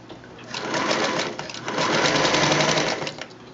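Sewing machine stitching the curved seams of a quilt block, a close, fast rhythmic whir that speeds up midway and then slows to a stop.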